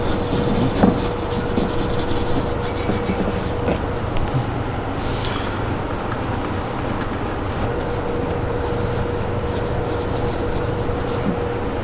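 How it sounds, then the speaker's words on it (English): A brush scrubs chrome polish vigorously onto the trim of a 1957 Cadillac Coupe Deville, a dense continuous scraping rasp close by, steady and loud throughout without pauses. "we just glob it on to a brush and give it a nice scrape"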